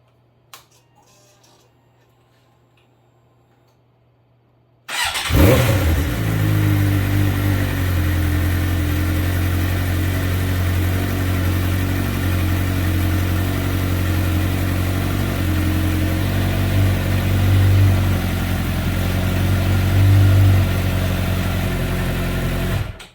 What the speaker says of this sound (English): Now it's time to start the bike and get the oil cycled.